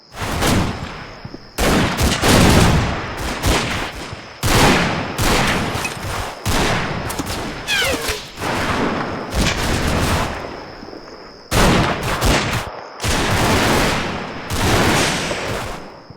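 Bursts of long-range gunfire from the war game Combat Mission: Fortress Italy, loud rattling volleys and fusillades separated by short silent gaps, repeating through the whole stretch.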